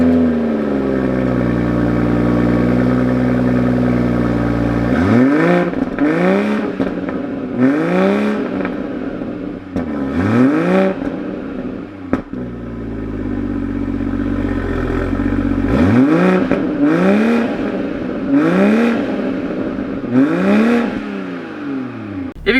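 A 2021 Toyota Supra in sport mode revs repeatedly, fitted with an aftermarket downpipe and air intake, each rev a loud rising-and-falling engine sweep with crackling pops between, after a few seconds of steady idle.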